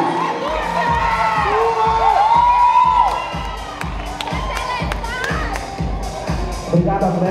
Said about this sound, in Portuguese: uma salva de palmas na categoria